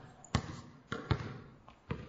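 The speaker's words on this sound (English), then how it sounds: "the bounce of basketballs on hardwood floors" Basketballs bouncing on a hardwood floor, four or five sharp thuds at an uneven pace, fairly close and alone in a quiet gym-like space.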